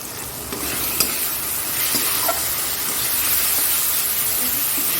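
Ground spices sautéed and stirred in a hot pan for a Bengali egg curry, a steady loud sizzle with scraping stirs and a few small clinks, up close and with no speech.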